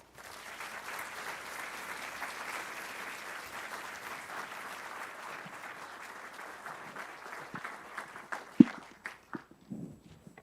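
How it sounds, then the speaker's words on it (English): An audience at a book awards event gives a round of applause for five finalists, sustained crowd clapping that thins out toward the end into a few scattered, louder individual claps. "Please join me with a round of applause for our 5 finalists."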